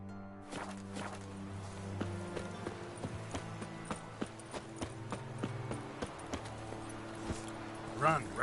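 In the Witcher 3 video game, a horse's hooves clip-clop in a quick, even rhythm that runs steadily throughout at moderate loudness, ending with a couple of louder thuds near the close.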